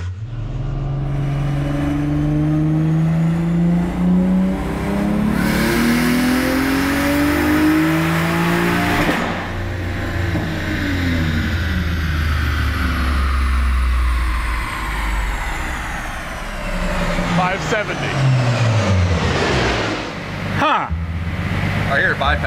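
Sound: cheap sports car accelerating hard, possible boost leak

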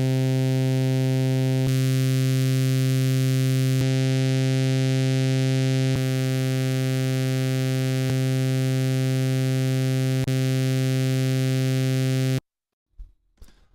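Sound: Oberheim SEM synth sawtooth through a 1 kHz notch filter

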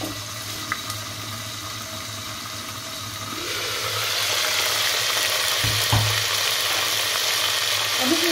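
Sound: oil splattering while frying in a covered pot

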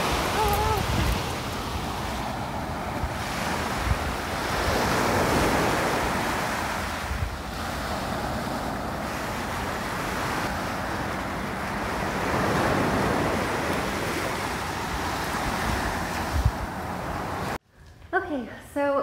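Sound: waves on the shore at Nago Citizen Beach, Okinawa

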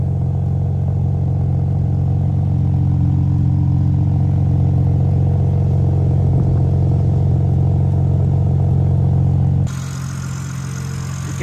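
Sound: sports car engine sound

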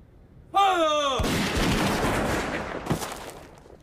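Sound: firing squad gunshots

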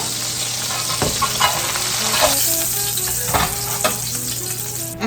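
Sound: steak searing in a pan

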